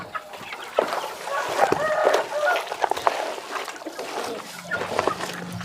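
Several Indonesian kampung chickens cluck and chatter nearby in a steady, busy stream of short calls.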